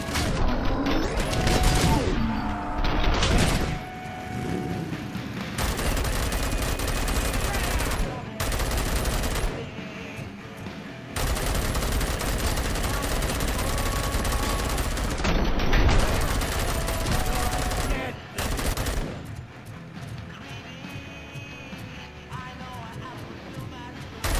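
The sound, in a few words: gunfire from the RoboCop: Rogue City video game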